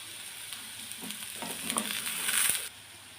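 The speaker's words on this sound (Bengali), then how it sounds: "আলুটা ভাজা হয়েছে এখন আমি লঙ্কা দিয়ে দিলাম" Potatoes sizzling in a pan as chili goes in for an aloo dum, steady frying hiss with a few soft stirring scrapes, growing a little louder near the end before dropping away.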